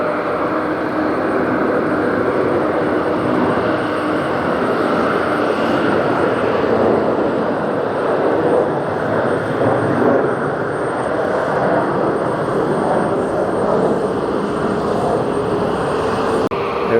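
An Air Serbia jet, registration YU-ARB, roars steadily and loudly at JFK airport, a continuous broad engine rumble that neither rises nor falls much.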